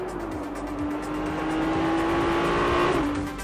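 A Ferrari 296 GTB, a turbocharged V6 plug-in hybrid, drives past at moderate volume, a steady engine tone rising slightly with a whistling whine that drops near the end, alone without voices.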